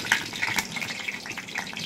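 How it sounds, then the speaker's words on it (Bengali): Dry red chilli and nigella seeds frying in hot oil in a wok, a faint crackling sizzle with small scattered pops over a soft hiss. "তেল গরম হয়ে গেছে, এর মধ্যে আমি দিয়ে দেবো শুকনো লঙ্কা আর কালো জিরে।"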